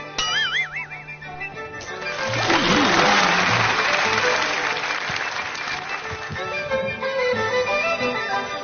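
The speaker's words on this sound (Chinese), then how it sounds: "掌声有请" Studio audience applause on a Chinese TV variety show stage swells into a loud, dense wash of clapping after a brief sung or musical opening, then holds steady to the end with some music underneath.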